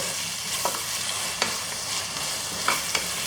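Onions fry with salt in a pan for mutton mandi rice, a bright steady sizzle broken by a few sharp scrapes of a spoon stirring them, close and without speech.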